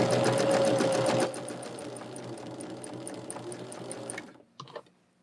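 A sewing machine stitches a churn dash quilt block in a fast, loud, close, rapid-ticking run of about four seconds, then stops, followed by a brief handling clatter.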